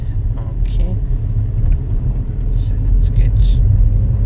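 A car driving past on a road during a driving test route in Currie, Edinburgh, a steady low rumble of the passing vehicle, fairly loud and close, with brief voice sounds on top.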